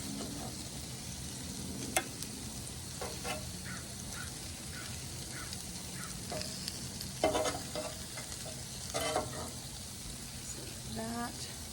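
Steak, pineapple and green onions sizzling on a hot cooking surface, a steady frying hiss punctuated by metal spatula scrapes and taps as food is scooped and piled, with faint talk underneath.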